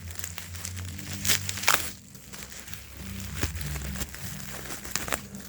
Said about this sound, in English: And let me get this unwrapped here.